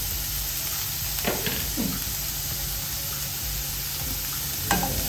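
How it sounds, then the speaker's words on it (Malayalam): Steady frying sizzle with a few scraping stirs of a utensil in a pan, close by, no talking. "ഇനി ഇതൊന്ന് നല്ലതുപോലെ ഒന്ന് വറുത്തെടുക്കാം"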